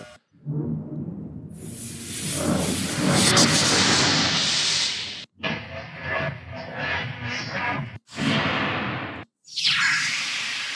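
An AI-generated lightsaber sound effect: synthetic hissing whooshes swell and cut off abruptly in several bursts, like an electronic energy blade, with no voices.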